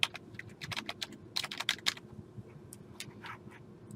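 Rapid keystrokes on a computer keyboard while someone fills in an online college application form, a close, quiet run of uneven clicks in short bursts with small pauses between them, no voices.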